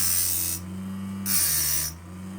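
Two quick rasping strokes of a file clean the burr off a Ford 302 piston ring, each a short bright scrape over a steady background machine hum.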